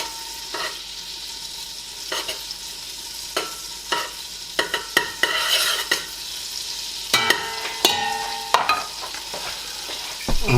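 Marshmallow and Milky Bar chocolate melting in a pan while being stirred, with soft sizzling and a series of distinct spoon scrapes and knocks that grow busier toward the end.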